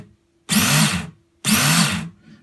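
Smith's electric belt knife sharpener running in two loud bursts of motor whine with belt hiss, each about half a second to a second long, separated by short silences.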